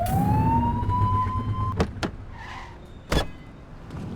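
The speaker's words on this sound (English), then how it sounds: "Get behind them and blip the siren to make them pull over." A police car in The Precinct video game gives a brief rising siren whoop over the hum of traffic, followed by a few sharp clicks.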